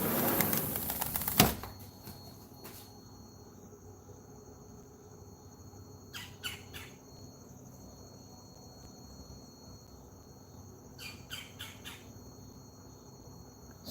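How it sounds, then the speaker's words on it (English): Backyard birds, with scattered sharp chirps and calls over a steady insect-like buzz after an initial loud rustle, fairly faint and distant. "I got nothing but birds back here, like nothing."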